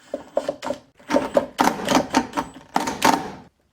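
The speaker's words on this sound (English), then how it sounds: "That's the sound of a nail." A run of sharp, rattling mechanical bursts, several in a row with short pauses, close and fairly loud, as a drill bit grinds against a nail.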